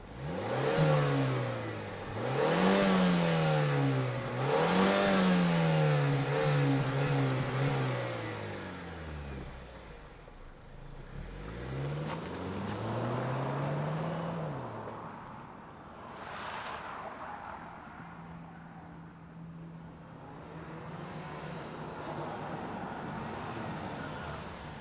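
A 2023 Mazda CX-30 Turbo engine revs up repeatedly in rising and falling sweeps, then drops into a steadier running drone with lighter revving, close and fairly loud with no talk.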